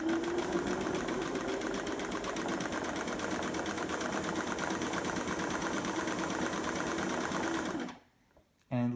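A vintage Singer Stylist 513 sewing machine stitching a zigzag, a fast steady mechanical whirring chatter running loud and continuous before stopping abruptly near the end.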